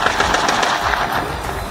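Soldiers firing guns in Khan Yunis during a ground operation, heard as a rapid, continuous rattle of gunfire that sounds loud and dense throughout a short burst.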